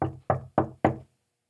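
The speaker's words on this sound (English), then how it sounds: "I knocked on the brick house" Four firm knocks on the door of a brick house, evenly spaced, close and solid with a hollow low thud, then silence.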